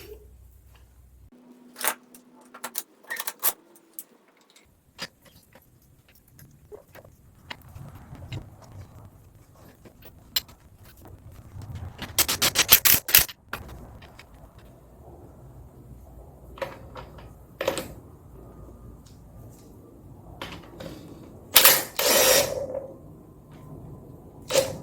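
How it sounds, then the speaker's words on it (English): Metal clanks, ratchet clicks and scraping as a spring compressor is worked on a car strut during a Mustang or Jag repair, with irregular bursts and a louder cluster of clanking midway, no talk. "So, time to use the spring compressor."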